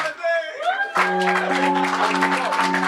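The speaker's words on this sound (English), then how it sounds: "Let's get the Most High a round of applause" A church audience breaks into applause after a brief vocal phrase. Broadband clapping swells and holds under a sustained organ-like chord, with scattered voices calling out in the crowd.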